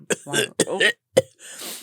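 A person vocally imitates coughing and sneezing, with short throaty bursts and a sharp exhaled sneeze-like blast, loud and close with no other talk.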